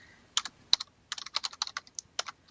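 Fingers tap out bursts of quick, crisp clicks on a computer keyboard while working in an Excel 2010 spreadsheet, close and fairly quiet, irregular in rhythm with short pauses and no speech.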